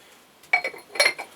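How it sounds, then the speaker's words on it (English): A lid is set onto a teapot with two quick clinking contacts, close and crisp against a quiet background. "Put our lid on."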